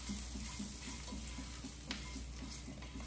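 Onions and garlic fry in a pan for turkey meatloaves, a soft, even sizzle that hisses quietly throughout with one small stir-like tap near the end.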